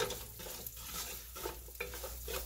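Shallots sauté in oil in a pan with a soft, steady sizzle and occasional stirring scrapes, faint and close, with no voices.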